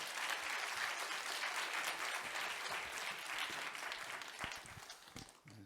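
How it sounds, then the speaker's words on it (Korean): A church congregation at Seongnam Sinheung Holiness Church applauds to welcome the pastor. The steady, even clapping of many hands sounds somewhat distant and subdued, then trails off at the end. "목사님 감사하다고 박수로 모시겠습니다"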